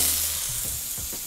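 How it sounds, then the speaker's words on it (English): Steady, close sizzling of food stir-frying on a hot electric grill, a continuous bright hiss with a few soft stirring bumps underneath. "And stir frying is a very quick thing, right?"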